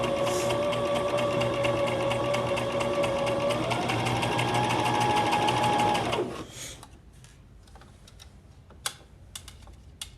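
A sewing machine runs steadily with a twin needle while hemming a t-shirt, a close whirring hum that stops after about six seconds, leaving quiet room sounds and faint clicks.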